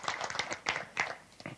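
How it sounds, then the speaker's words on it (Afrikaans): Scattered hand claps from a church congregation, irregular and fairly close, coming in short uneven bursts rather than full sustained applause. "Kom ons gee hom met hande klap"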